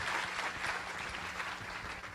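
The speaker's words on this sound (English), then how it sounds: "let's give her a very warm round of applause" An audience at a North American Taiwanese technology conference gives a warm round of applause, a dense, even wash of many hands clapping that carries on steadily throughout.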